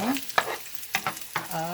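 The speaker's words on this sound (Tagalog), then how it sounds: "So, ngayon ay linagay na niyo yung bawang" Garlic frying in a pan for a Kapampangan sticky rice dish, with a spoon scraping and stirring in three or four distinct strokes over a soft sizzle, close by and without talk.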